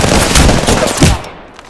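Dense, loud automatic gunfire from the video game Apex Legends rattles continuously for over a second before cutting off.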